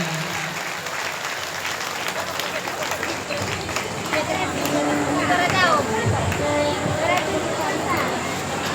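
Audience clapping in welcome at a live Shri Ram Katha religious discourse at a temple in Dhanbad, Jharkhand, a steady crowd applause that swells midway, with voices mixed in beneath it.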